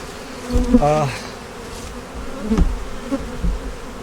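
Bees buzz around a big, strong beehive busy making honey, a close, uneven droning hum that swells and fades in short bursts with no talking.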